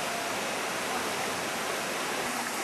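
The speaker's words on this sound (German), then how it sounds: "Und flussabwärts zeigt uns der Crystal Creek, also Crystal Bach, wozu er in der Lage ist." Crystal Creek rushes downstream in a steady, dense roar of whitewater, continuous and close with no pauses, loud enough to suggest rocks being tumbled along the bed.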